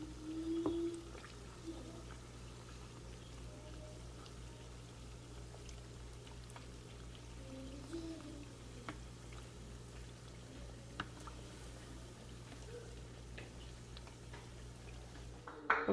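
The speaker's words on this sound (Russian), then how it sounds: "Что-то как-то долго они у меня жарятся" Meat cutlets deep frying in a pot of oil make a quiet, steady bubbling sizzle with occasional faint pops and clicks.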